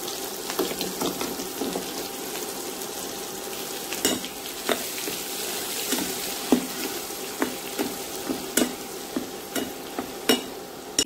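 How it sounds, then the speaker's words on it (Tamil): Ground garlic pickle paste going into hot oil already crackling with mustard seeds and urad dal, a steady sizzle with repeated sharp pops and scraping stirs, close and moderately loud, no voices. "நம்ம அரைச்சி வச்சுருக்கோங்க ஊறுகாய்ச்சி, அதை நம்ம இதில் போட்டு தாளிச்சிடணும்"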